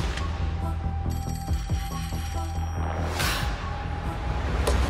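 A telephone bell rings in a fast rattling burst lasting a couple of seconds, followed by a whoosh and rumbling background, close and fairly loud.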